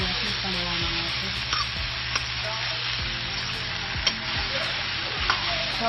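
A breadfruit curry in coconut milk is stirred in a pan: a continuous bubbling sizzle under a low hum, with a few scraping spoon strokes spaced through it.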